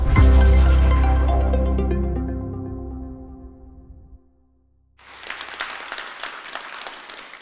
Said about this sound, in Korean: 아마도 책방의 박수진 대표님을 여러분의 큰 박수로 만나보겠습니다.